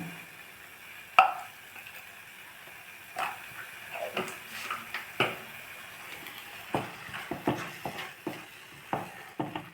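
A spatula stirs thick apple burfi mixture in a pan, giving soft scraping strokes and light taps against the metal in an irregular rhythm, close but faint, with no talking.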